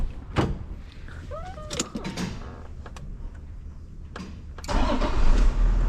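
A vehicle engine cranks and catches after fresh brake pads, oil, air and fuel filter service, settling into a louder steady idle near the end, preceded by door and handling clunks.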